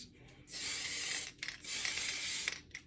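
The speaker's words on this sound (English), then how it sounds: "If you feel like that you are spraying too much, then you probably are." An aerosol can sprays paint onto a Proline Chevy 2500 HD RC truck body in close, loud hissing bursts: one long spray, a short break, then another long spray ending with a few brief puffs.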